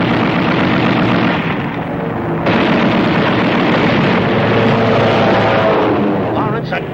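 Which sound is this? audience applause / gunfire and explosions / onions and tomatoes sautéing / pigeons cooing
gunfire and explosions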